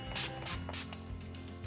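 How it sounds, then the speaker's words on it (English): Urban Decay Chill makeup setting spray hisses out in several short bursts, separate close puffs of fine mist over a low steady hum in the room. "For setting spray, I'm going to use my Urban Decay Chill Makeup Setting Spray."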